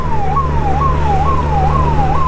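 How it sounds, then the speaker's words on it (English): An ambulance siren wails up close on the road in a repeating rising-and-falling sweep, loud and steady, over a low engine hum from a motorcycle. "let's give way to this ambulance"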